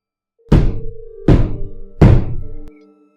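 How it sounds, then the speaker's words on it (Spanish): Three loud, heavy knocks on a wooden entrance door, evenly spaced about three-quarters of a second apart, each booming and ringing briefly, with no voices. "se escucharon 3 golpes muy fuertes en la puerta de la"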